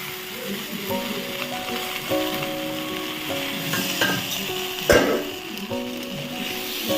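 Okra and brinjal frying in a pan for an Odia-style bhaja, a steady close sizzle with occasional stirring scrapes and a sharp utensil clatter midway.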